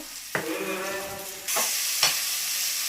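Onions for a chicken dish fry and are stirred in a pan: a close, steady sizzle broken by a few sharp scraping strokes, with the hiss growing louder partway through.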